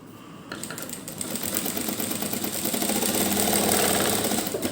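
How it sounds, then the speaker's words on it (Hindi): Sewing machine running steadily as it stitches a piping tip on fabric for cuff sleeves, a continuous mechanical whir with a rapid needle rhythm that grows slightly louder, close by with no talk. "इस पर हम सिलाई लगाते हुए इस टिप को भी रेडी कर लेंगे।"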